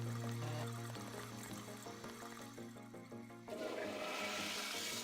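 A toilet flushes in the Deus Ex video game, a rushing gush of water that surges up near the end over steady in-game background music.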